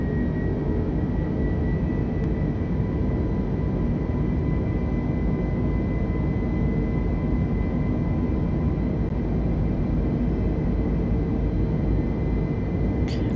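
Airliner engines at TOGA thrust in Microsoft Flight Simulator 2020 give off a steady, loud, even roar that holds constant throughout, with no speech.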